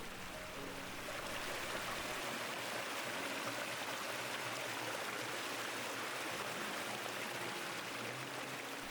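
Cherry Brook flows through forest in a nature preserve, a steady, soft rushing of water with constant broadband wash and no voices.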